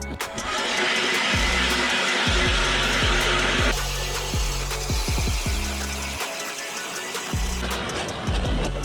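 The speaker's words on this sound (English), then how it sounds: "we're gonna take the old trusty Strike Master down the hill here and yeah, drill some holes" A Strike Master gas ice auger revs and drills holes in lake ice, loud close engine drone with repeated throttle surges and drops, briefly cutting out then restarting.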